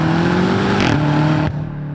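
A 2018 BMW M5 engine and exhaust accelerate with a steady, rising, fairly subdued drone, then shift abruptly and settle to a lower steady hum.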